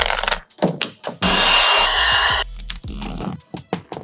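A heat gun blows a steady, loud hiss for about a second while warming car wrap vinyl, bracketed by short crinkling and tapping sounds from handling the film.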